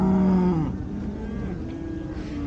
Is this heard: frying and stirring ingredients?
no